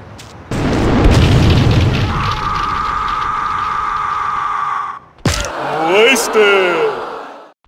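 Rocket launcher blasts from GTA2, a loud booming explosion followed by a sustained tonal hum, a brief cutoff, then another burst with warbling, sweeping tones; a voice may be present.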